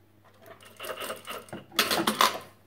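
A sewing machine stitches a sleeve in soft knit fabric in short uneven bursts, quiet at first and then louder and busier toward the end.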